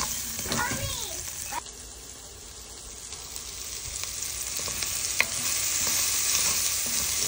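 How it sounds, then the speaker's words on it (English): Finely chopped garlic and onions fry in a pot while beef stroganoff is cooked, a steady broadband sizzle with occasional stirring scrapes, close and fairly loud throughout with no talking. "in the same pot, you can add your finely chopped garlic and onions"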